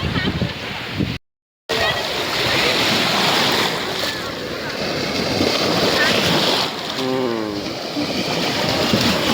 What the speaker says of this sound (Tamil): அழகாக அடிக்கும் பாரு ஆமாம் ஆ அலையே